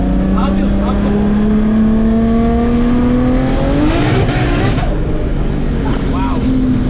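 A 670-horsepower BMW E30 accelerates hard on the road, its engine note climbing steadily in pitch as it pulls, loud and close from inside the car, with a brief gear change midway.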